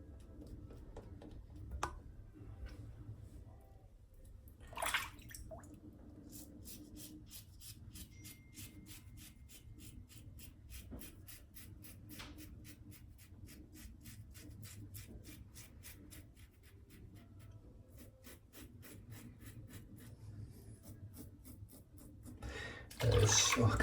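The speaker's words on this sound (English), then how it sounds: "let's put a little bit of lather in" A shaving brush working up lather from Arko soap, a steady fast rhythmic swishing and rubbing, close and fairly quiet, running throughout with a few louder knocks.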